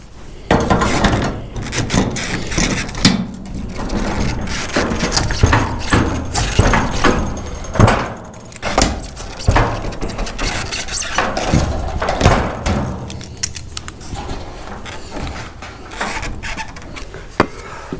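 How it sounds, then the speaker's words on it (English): An aluminum garage door panel is bent using a vice grip and a scrap 2x4, producing repeated close metallic clanks, scrapes, rubbing and dull wooden thumps in an irregular working rhythm. "For this I'm going to use a vice grip and then just a regular scrap 2x4."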